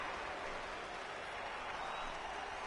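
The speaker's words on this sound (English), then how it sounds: "I can hear the crowd murmuring now" Steady crowd murmur from a stadium in the baseball video game MLB The Show 19, a continuous broad wash of distant voices and faint applause that holds evenly throughout.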